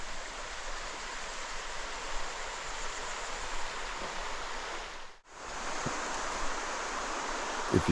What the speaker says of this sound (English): Right here's the creek.